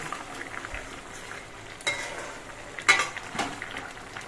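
A large hilsa fish cooks in a pan and is stirred after the lid comes off. A soft steady sizzle and bubble runs under a few sharp scrapes and clinks of the spoon against the pan, and nobody speaks.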